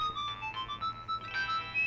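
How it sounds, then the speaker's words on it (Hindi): A phone ringtone plays a bright electronic melody of quick chiming notes, steady and fairly loud, with no talking. "सर आपका फोन है सर?"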